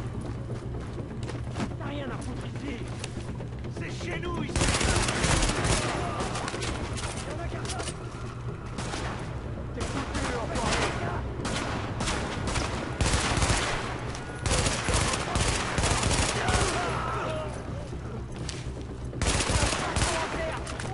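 Gunfire in the shooter game The Division, dense bursts of automatic rifle fire and scattered shots over a loud, busy battle mix, with steady rumbling underneath.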